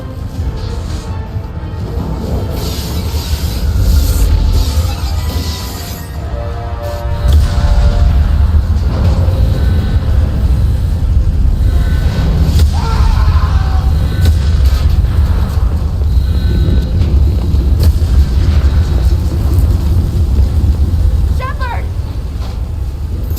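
A starship in Mass Effect 2 takes hits, with deep rumbling booms and crashing blasts in a dense, loud, continuous barrage, a heavier surge about a third of the way through, and voices shouting over the chaos.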